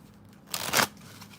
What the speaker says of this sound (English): How many more shuffles? 2 more shuffles,